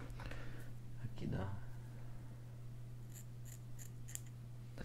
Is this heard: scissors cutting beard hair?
yes